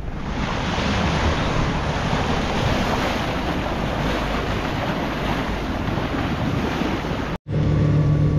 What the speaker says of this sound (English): Wind's starting to fill in a little bit